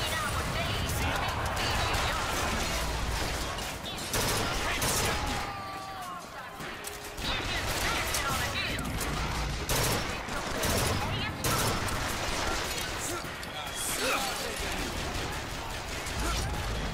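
Bursts of rifle fire crackle loudly through the Bioshock Infinite battle, with repeated volleys and impacts and a voice speaking over the combat.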